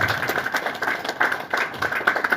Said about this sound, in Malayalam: അതിന് നല്ലൊരു കയ്യടി നിങ്ങൾക്ക് കൊടുക്കാം